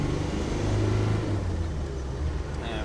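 A 1995 Land Rover Defender 90 with the 300Tdi diesel engine accelerating in third gear, heard as a steady loud engine drone and rumble from close by without talk.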